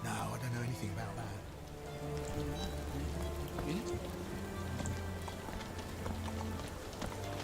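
Horse hooves clip-clop at a steady gallop amid pattering rain in the video game Sherlock Holmes: The Awakened (2023), with a droning musical backdrop and other game sounds layered in.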